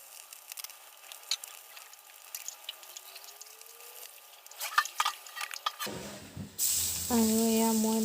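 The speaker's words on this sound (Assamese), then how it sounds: "মাছখিনি ধুনীয়াকৈ ইয়াত জুইতে ভাজি লৈছোঁ" Fish fries in oil over an open wood fire, giving an irregular crackle and sizzle with sharp pops, and a louder, steadier sizzle toward the end.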